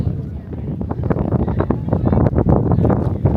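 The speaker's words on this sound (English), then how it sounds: "It is very windy up here though." Strong wind buffets the microphone in steady gusty rumbles, loud and close, with people talking under it, at a Waimea Canyon lookout on Kauaʻi, Hawaii.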